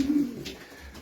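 Racing pigeons coo inside a loft built from steel rods and lined with wood, a soft low burbling call heard up close for about a second, followed by quiet shuffling.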